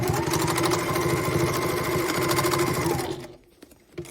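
A sewing machine stitches a boxy fabric bag, a steady close, loud mechanical whir with rapid needle rhythm running for about three seconds before stopping abruptly, leaving faint handling clicks.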